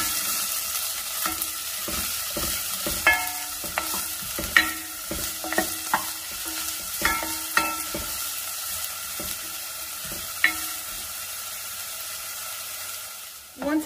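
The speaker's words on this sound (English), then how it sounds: "Going with a pinch of salt, and I'm going to saute well." Diced carrot and celery with a pinch of salt sauté in a pan for soup, giving a steady low sizzle broken by repeated stirring scrapes and clinks of a utensil, close and moderately loud, with no talking.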